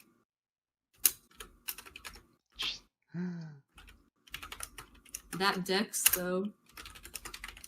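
Computer keyboard typing in bursts of rapid clicking keys, close and crisp, with pauses between runs and people talking and laughing in between.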